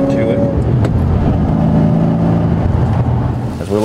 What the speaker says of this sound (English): It's actually not that loud, but it definitely has a nice MagnaFlow sound to it.